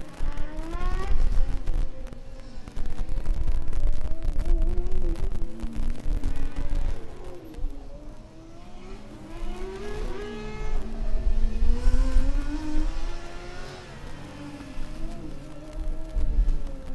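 A Formula Student race car in an endurance event, with a crushed traffic cone lodged on it, drives steadily with a rising and falling engine note over nearly continuous rumble.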